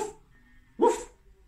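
A person mimics a dog's bark in a short, loud vocal burst during a dance and science class, a single yelp rising out of quiet murmuring.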